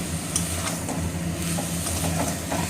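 Chicken pieces frying in a pan, a steady close sizzle with scattered scraping clicks and small crackles running continuously, without any talking.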